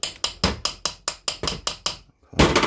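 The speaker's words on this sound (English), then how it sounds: "just a slight tap of the hammer" A hammer taps a greased brake caliper part into place on an HQ Holden PBR caliper. About nine quick, evenly spaced metallic knocks sound close and clear, followed by a short pause and a louder scraping clatter.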